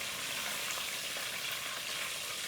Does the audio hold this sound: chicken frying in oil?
yes